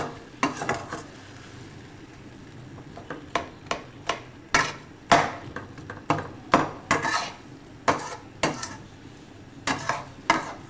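A spoon stirs apple chutney with jaggery in a pan, giving a run of close, sharp scraping clinks against the metal in an uneven rhythm, with faint sizzling beneath and no talk.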